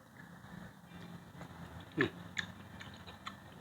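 Close, quiet crunchy chewing of boiled pork stomach, with a few distinct crisp bites amid soft mouth sounds and low background hum.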